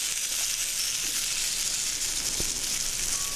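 Cut potatoes fry in hot oil in a pan for a fish curry, giving a steady, close sizzle with a faint crackle and no talk.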